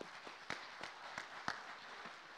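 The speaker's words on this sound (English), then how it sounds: "Round of applause for these guys." A short burst of audience applause at a school large-group speech showcase, scattered claps rising and fading over a couple of seconds at moderate distance.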